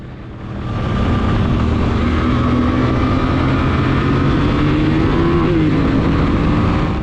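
Motorcycle on a race track during a track day, engine roaring steadily and close as it accelerates through a corner, with a rising and wavering pitch and no talk.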